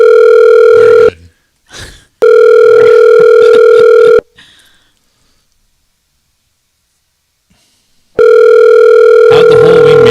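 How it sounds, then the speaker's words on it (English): A telephone rings loudly in long electronic tones with short breaks, falls silent for several seconds, then rings again. "Did you hear the voicemail and the ringing?"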